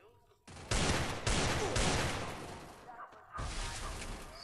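Rapid bursts of video game gunfire in a shooter match, loud, dense volleys that cut in and out over a few seconds with short gaps between them.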